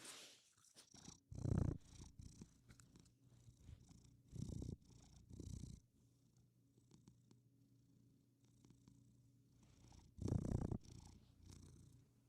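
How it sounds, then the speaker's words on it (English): A cat purrs quietly and close to the microphone, a low, soft rumble that swells in a few rounds of louder bursts and fades between them. "Let's see if we can hear the purrs."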